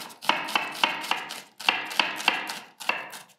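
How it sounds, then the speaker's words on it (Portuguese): A knife chops onion finely on a cutting board, giving crisp, evenly spaced strikes in two or three quick runs with short pauses, close and clear with no talking. "Vou picar um pouco de cebola"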